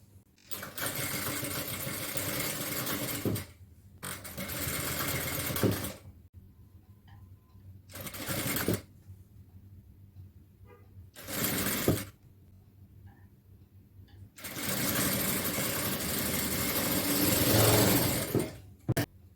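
A sewing machine stitches folded fabric in several loud bursts of rapid mechanical whirring, separated by quiet pauses, with the longest run near the end.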